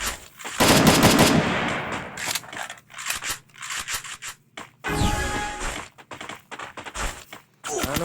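Bursts of automatic gunfire from the Free Fire video game ring out in loud rapid volleys separated by short gaps, with a person's voice talking intermittently over the shots.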